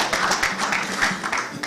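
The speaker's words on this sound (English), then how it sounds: "I think it deserves a round of applause." Applause from an audience at a football tournament group draw, a brief burst of dense clapping with a crowd wash, fairly loud and steady throughout.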